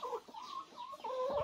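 Chickens clucking close by in a coop area, several short squawky calls running together over about a second and a half, moderately loud with no talk.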